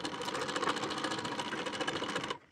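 A sewing machine runs steadily, stitching along a marked line on a collar-neck blouse, its rapid even needle rhythm close and loud for about two seconds before stopping abruptly.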